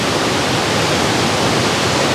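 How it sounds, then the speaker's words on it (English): A waterfall on an island pours in a loud, steady broadband rush that fills the whole span without pause. "Yeah, beautiful waterfall"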